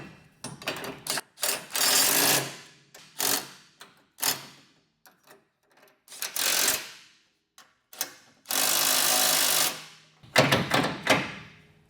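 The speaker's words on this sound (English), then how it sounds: "Now I'm going to use a 21mm socket and tighten these down just so the nuts come into contact." Power tool with a 21mm socket tightening nuts on Ford F250/F350 truck rear bumper mounts, a series of loud whirring bursts of one to two seconds each with short pauses, close to the microphone.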